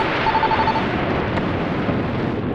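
A short run of telephone dialing beeps, faint beneath a loud, steady rushing noise that fills the whole clip.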